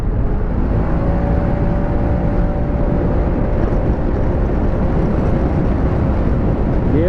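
A QJMOTOR ATX250X motorcycle climbing a hill, its steady engine drone blended with heavy rushing wind noise, loud and continuous throughout with no speech.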